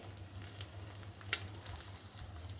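Two eggs frying in a pan for a home breakfast, giving a faint, steady sizzle with a low hum beneath and a couple of small sharp crackles, with no voices.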